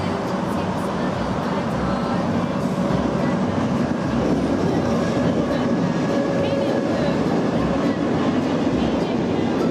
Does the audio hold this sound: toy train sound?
yes